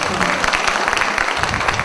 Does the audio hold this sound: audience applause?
yes